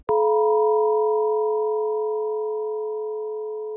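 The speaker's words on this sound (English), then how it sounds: "that is how you can generate out Risset Drum sound inside of Audacity" A synthesized Risset drum tone generated in Audacity: one sharp struck attack, then a steady cluster of pure, bell-like tones that fades slowly over nearly four seconds, heard alone.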